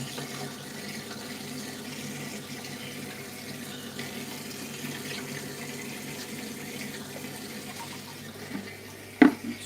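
Water runs steadily from a tap in a fishroom, a constant broadband hiss held at one level throughout. A sharp clunk comes near the end.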